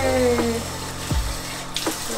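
Tap water running steadily into a sink or tub while a puppy is bathed, a continuous close splashing wash with a couple of brief gurgles and knocks.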